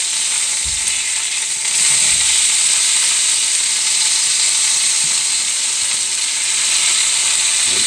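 Pieces of chicken frying in a pan for chicken pesto, a steady bright sizzle and hiss filling the whole stretch close up, with a few faint thumps of handling early on and no talking.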